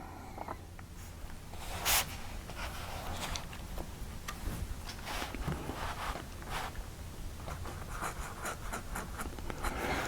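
An Esterbrook fountain pen with a 2556 nib scratches across paper in a quiet room, making soft, steady strokes with small ticks and pauses, close and faint.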